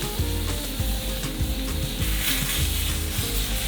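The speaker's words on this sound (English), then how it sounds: "The sound of a sizzling pan never fails to make me hungry." Steady, dense sizzling of steak fajita meat frying in a hot skillet on a Primo Kamado charcoal grill, with faint scraping or stirring clicks mixed in, close and continuous.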